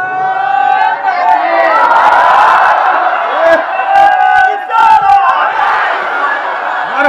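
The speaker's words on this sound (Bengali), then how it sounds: "একটা জোরে তাকবীর" Crowd at a Bangladeshi religious sermon loudly shouting takbir in unison, a dense roar of many voices rising and falling in waves throughout, close and continuous.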